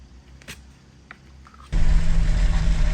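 A vehicle drives up a slippery, deeply rutted muddy mountain road, its engine suddenly surging into a loud, steady low drone after a few faint clicks and knocks.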